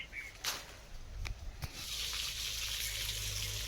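An electric water pump motor starts up for garden watering, and water gushes out in a steady loud hiss with a low motor hum under it. A few clunks come first, and there is no talking.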